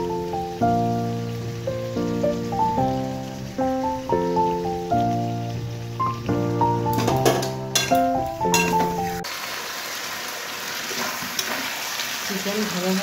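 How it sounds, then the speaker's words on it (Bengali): Chicken pieces frying in a wok with spices and half-boiled potatoes, heard as a steady broadband sizzle that emerges clearly near the end after a stretch dominated by background music. "চিকেন ভালোভাবে ভাজা হয়ে গেছে।"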